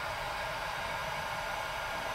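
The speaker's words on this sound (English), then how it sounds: "Heat gun's warmed up a little bit already." A heat gun blows a steady, loud rush of broadband air noise while freeing wiring for a reversing camera on a Burstner motorhome. The hiss holds constant and unbroken with no other sounds.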